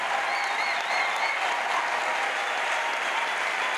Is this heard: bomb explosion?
no